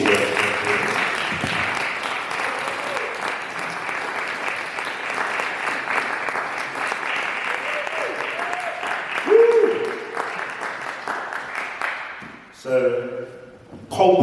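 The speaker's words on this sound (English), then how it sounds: "A round of applause for him and all the rest" An audience at a book launch claps steadily for about twelve seconds, with a voice briefly audible over the applause before it dies down and a speaker begins.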